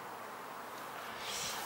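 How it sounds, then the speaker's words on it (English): Honey bees fly around their hive on first orientation flights, making a steady, soft, continuous buzzing hum from many insects at once with no talking. "they're doing their happy flight. So there's a bunch of bees that have emerged and they're doing their first orientation flights."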